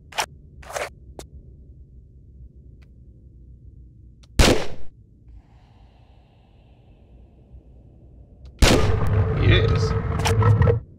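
Gunshots in Tomb Raider: The Last Revelation: a few sharp, isolated cracks early on, one louder shot midway, then a dense burst of loud impacts and ringing noise near the end, with quiet gaps between.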